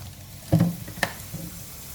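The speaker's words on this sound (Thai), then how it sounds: "กระทะร้อนแล้วก็ใส่น้ำมัน" Hot oil sizzles in a wok over medium heat, with a couple of sharp spatters and pops over a low frying hiss.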